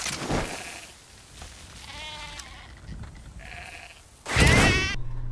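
Sheep bleat in Metal Gear Solid V: The Phantom Pain: several wavering, nasal calls sound at moderate volume, and a final loud, close bleat cuts off abruptly.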